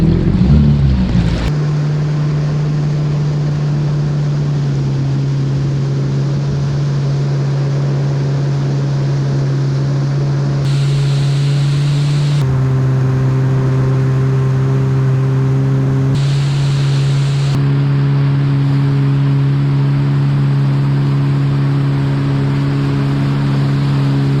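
A 2020 Yamaha WaveRunner FX Cruiser HO jet ski runs across calm water in Florida, its engine droning loud and steady, with the pitch shifting a few times as the throttle changes.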